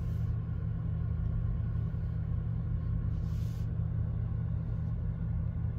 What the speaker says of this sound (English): let's hope this car goes in the opposite direction